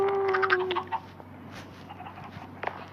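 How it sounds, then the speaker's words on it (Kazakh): Chickens cluck loudly at close range in a farmyard as they are herded into a coop. A burst of clucks comes first, then softer, scattered calls continue to the end. "Әй, шығып кетті ана бір тауық"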